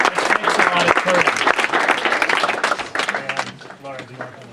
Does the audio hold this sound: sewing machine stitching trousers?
no